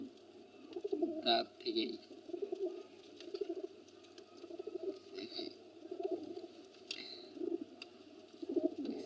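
Desi golla pigeons, a local round-bodied breed, coo in soft repeated low bursts close by, with wing flutters and shuffling around a pigeon house, while someone speaks over them.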